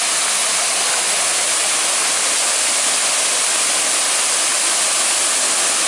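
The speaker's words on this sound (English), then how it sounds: "Well, we are back to Tunnel Falls. Probably one of the coolest waterfalls I've ever been to." Tunnel Falls on the Eagle Creek Trail roars loud and constant from close by, a dense unbroken wash of falling water with no voices over it.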